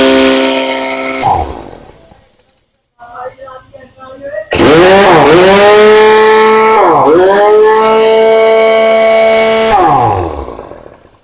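A Hero 1187 one-inch heavy-duty air impact wrench on about 130 psi of shop air runs in loud bursts, a sustained high whine with pitch dips between hammering spells, mixed with nearby talk.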